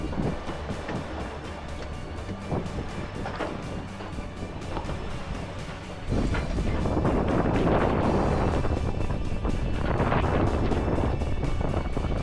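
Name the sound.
monohull sailboat underway offshore in the wind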